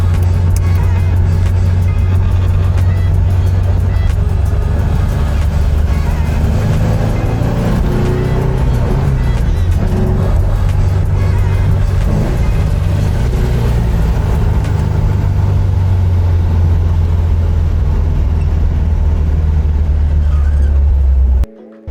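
A 1967 Porsche on its first drive, climbing uphill with a steady, close engine drone and road rumble that carries on without pause until it abruptly cuts off at the end.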